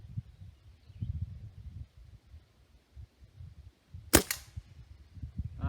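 A single sharp crack from a Stoeger A30 air rifle firing a pellet outdoors, loud and close, with a quick decaying tail, set against low breeze rumble and quiet handling noise.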